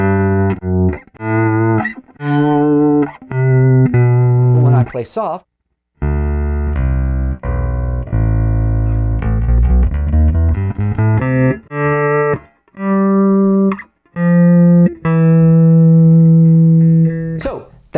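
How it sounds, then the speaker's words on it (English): Guitar played through a Roland VG-99 processor with the slow gear effect, a string of sustained, distorted notes and chords with swelling volume and brief silent gaps, while someone talks briefly at the start. "we should hear the slow gear effect"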